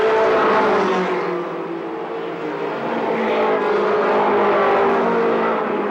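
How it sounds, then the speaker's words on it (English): A race car engine roars loud and steady, rising and easing through a qualifying heat race on a circuit, with a continuous near, full-throttle drone for the whole stretch. "Gentleman Jim Engelmeyer, car number 9, with a cushioned lead, will pick up the checkered flag in tonight's qualifying heat race."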